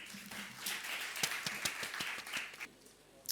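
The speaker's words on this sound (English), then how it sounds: "Let's give him a huge round of applause." Scattered clapping from an audience, a smattering of hand claps that stays fairly light and fades toward the end.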